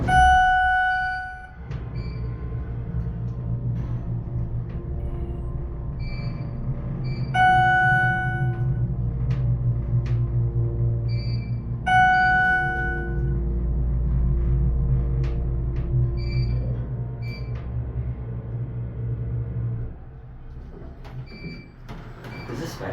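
Schindler hydraulic elevator in a mall parking deck runs its motor with a steady low hum and rumble for most of the stretch, joined by repeated high chimes or beeps and faint clicks, then easing off near the end.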